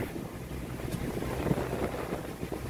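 Sailboat motor sailing in light wind with mainsail and headsail fully out and the engine running, heard as a steady rushing wash of wind and water with a low continuous rumble and no voices.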